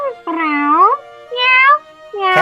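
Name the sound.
cat meowing in video game Professor Layton and The Lost Future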